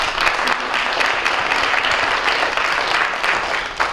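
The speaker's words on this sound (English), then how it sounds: "Let's give them a big round of applause." An audience at an improvisational performance applauds, a dense, sustained wash of clapping that holds steady for a few seconds without voices.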